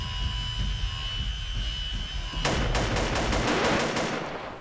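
Gunfire in a horror video game about a serial killer breaking into a house, with a loud sustained burst of shots cutting in midway over steady background noise and continuing to the end.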